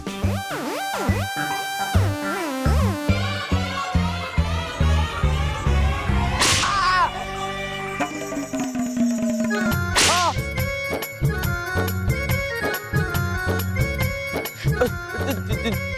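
A magic whip in a Baalveer fantasy children's TV scene lashes again and again, its sharp cracks landing in quick bursts over loud, dramatic background music with swooshing effects.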